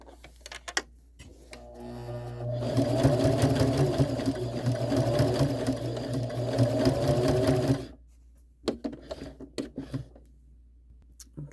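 A sewing machine stitches quilt-as-you-go sashing at a 1/2 inch seam in one steady burst of about five seconds, a loud close whirring run. Quieter clicks and handling noises come before and after it.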